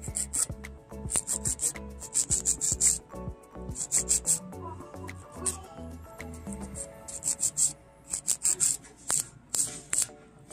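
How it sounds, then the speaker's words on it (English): Acrylic nail tips being filed with a nail file, a brisk series of short raspy strokes in uneven bursts, close up and fairly quiet, with brief pauses between passes and no talk. "So again, I'm gonna start filing."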